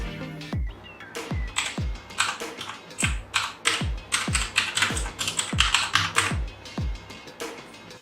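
Rapid typing on a budget mechanical keyboard with full numpad and dust-proof blue switches, loud sharp clicks in an uneven stream of keystrokes with no voices.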